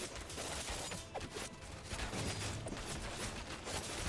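Monolith towers shooting in the strategy video game Thronefall, a dense, steady stream of rapid synthetic firing and impact sounds at moderate volume with no pauses.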